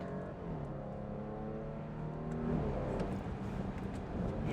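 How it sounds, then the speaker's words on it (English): A 2017 Audi Q7 engine in sport mode, downshifting: a steady, close drone whose harmonic bands slide and step in pitch, rising at the end as revs climb, with no talking. "Let's put the vehicle in sport mode, flick some downshifts."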